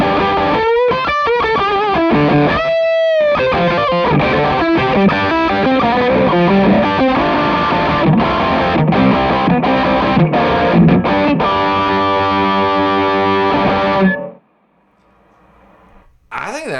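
Electric guitar through a Chaos Audio Stratus with the reverb switched off plays a dense, distorted, driven riff with strummed chords and quick picked notes, loud and continuous, then cuts to near silence before a brief return.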